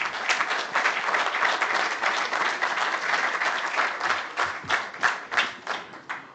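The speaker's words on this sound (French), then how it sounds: "nous devons nous autoriser à nous applaudir pour le travail que nous venons de faire" Sustained applause from a congress audience at a union meeting, dense and loud at first, then thinning into slower, separate claps that fade toward the end.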